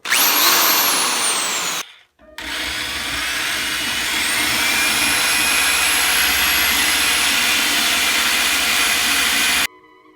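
Power tool reaming a port in a turbocharger housing held in a vise, for a 3800 twin-turbo Camaro build: a loud high whine spins up, cuts out briefly, then runs steadily before stopping.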